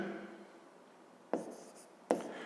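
A pen writes by hand as a fifth-grade maths exercise is worked through. Faint, soft scratching is interrupted by two sharp taps, heard close and quiet with no talking.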